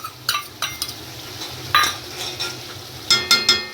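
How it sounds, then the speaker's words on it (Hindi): A ginger masala fries over medium heat while a spoon stirs and scrapes against the pan, producing a low sizzle under clusters of sharp metallic taps and scrapes. "अब मीडियम आंच के ऊपर इसको अच्छे से भूनना है मसाले को।"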